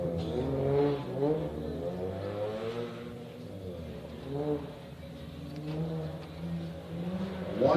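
Drift cars, a red Mazda RX-7 and a black Nissan 350Z, rev their engines at a drifting event on the plains, with steady rising and falling engine tones carrying on under a continuous announcer voice.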